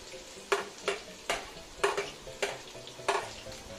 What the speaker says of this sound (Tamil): இந்த வெங்காயமும் நல்லா வதங்கட்டும்.